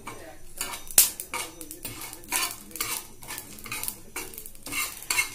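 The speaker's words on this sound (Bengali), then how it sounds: "ভাজা মশলাটা বেশ আমি ভালো করে নাড়াচাড়া দিয়ে দেব।" A utensil stirs and scrapes fried spices with bay leaf and dried chilli in a pan, making repeated metallic scrapes and clinks over a soft sizzle, close and alone.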